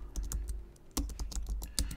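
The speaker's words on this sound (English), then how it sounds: "start typing Logic Pro" Close, clear typing on a computer keyboard: bursts of quick key clicks with short pauses and a few heavier strikes, no speech.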